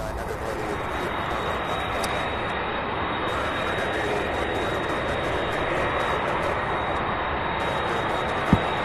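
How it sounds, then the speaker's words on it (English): A McDonnell Douglas MD-11 jet moving at Louisville airport, a loud, steady roar of engine noise with a high whine running throughout, and a single sharp knock near the end. "Another MD-11 on the move there"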